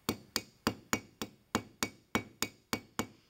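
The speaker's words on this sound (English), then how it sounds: "Then use your ball peen to gently mushroom the ends of the pin over." A ball peen hammer taps the ends of a soft brass pin to mushroom them over while forging a Viking-age sword: eleven crisp, evenly spaced strikes in a steady rhythm, close and fairly quiet, no voices.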